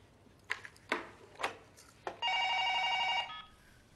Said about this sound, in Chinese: 徐总，您的来电外线。